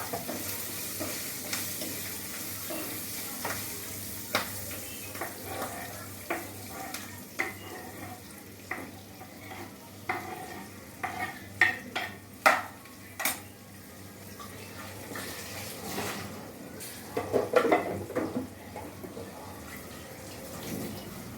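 Okra (bendakaya) fries in a pan for a Telugu home-cooked okra fry, a steady close sizzle broken by scattered sharp clicks and scrapes of a spoon stirring against the pan, with no talking.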